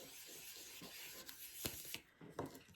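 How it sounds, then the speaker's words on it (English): Transfer tape being rubbed down firmly onto a craft banner, faint close scraping strokes in short uneven passes with no voices. "Rub it down really good."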